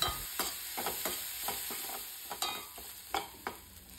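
Dried prawns frying in coconut oil in a pan, a steady close sizzle broken by repeated sharp scraping and stirring strokes every half second or so, with no talking.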